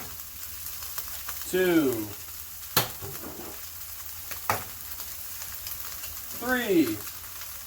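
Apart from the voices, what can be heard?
onions frying in a pan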